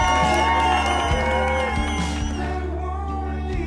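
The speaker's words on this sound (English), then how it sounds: "Big round of applause and make some noise for Maggie!" Crowd cheering and whooping for the women's champion finishing the Cocodona 250 ultramarathon at Heritage Square, a continuous loud roar of voices with yells and shouts over steady low background hum, sustained throughout.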